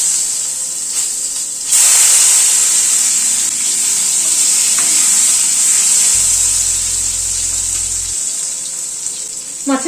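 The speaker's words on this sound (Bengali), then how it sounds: "এবার এই তেলে বেগুনটা একটু ভেজে নিচ্ছি" Eggplant frying in hot oil left over from frying fish, a steady bright hiss and sizzle that swells after a brief quieter start and holds loud to the end.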